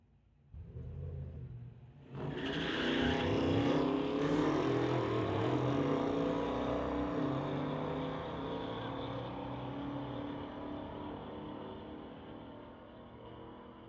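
A 2013 Audi and a 1970 Dart launch side by side at a street-legal drag race, a loud sustained engine roar rising abruptly and then slowly fading as the cars pull away, heard from trackside.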